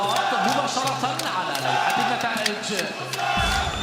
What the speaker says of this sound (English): Drums being beaten, flags out, cheering.